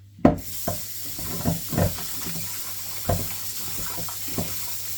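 Sliced pork is washed under a running kitchen tap, a steady close hiss of water with intermittent splashes and rubbing sounds as the meat is handled in the sink.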